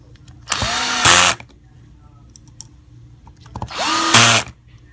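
A power drill drives screws into an upper housing in two short, loud whirring bursts, each rising in pitch then cutting off, with light handling clicks in between.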